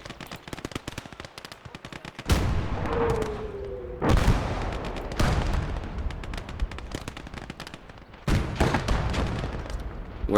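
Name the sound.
artillery fire in video game Gates of Hell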